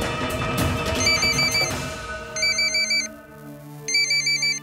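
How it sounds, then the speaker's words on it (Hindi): An electronic phone ringtone plays in three bursts of quick, bright, repeating beeps, with a steady background tone underneath. "दीदी का फोन है।"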